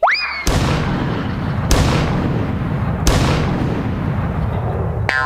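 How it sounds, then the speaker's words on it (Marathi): A three-cannon salute sound effect: three loud, booming blasts fire at regular intervals, each trailing off in a rumbling decay, opened by a short rising whistle. "या पंचला त्याने 3 तोफांची सलामी दिली बघ."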